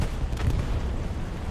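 A dense, rumbling explosion in the World War II shooter Hell Let Loose, a loud, sustained blast with low booming weight and no voices.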